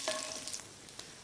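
Lentils and ginger fry in hot oil, a soft crackling sizzle with a few sharper pops and stirring scrapes, close and unaccompanied by talk.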